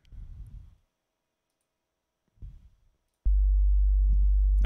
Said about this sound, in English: that pitch is a pure tone of 50 hertz, meaning that wave cycles 50 times every second.